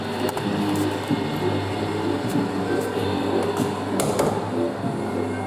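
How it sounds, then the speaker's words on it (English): The motor of an R.G. Mitchell Mini Thomas the Tank Engine kiddie ride runs with a constant, noisy mechanical drone and a low hum. Scattered clicks and knocks sound over it, and faint background voices can be heard. "The motor's quite extremely noisy on this unit."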